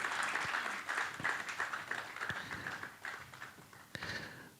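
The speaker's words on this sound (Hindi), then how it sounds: "तालियां कमजोर पड़ रही है" Audience applause at a conference session as a political editor is welcomed onto the stage, somewhat distant and thinning, with scattered individual claps standing out over a low room murmur.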